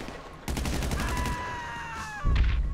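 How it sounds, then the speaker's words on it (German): Bursts of automatic gunfire in GTA 5 Online, rapid stacked shots with a sharp onset, then a sustained stretch of firing under high ringing tones and a heavier burst near the end. "Einfach immer schön in die Fresse schießen"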